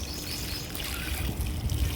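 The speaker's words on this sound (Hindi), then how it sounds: "इसको अच्छे से पानी से भर दें" Water is poured onto dry soil in an adenium seed pot, making a faint, soft trickle and gurgle that continues unbroken with no talking.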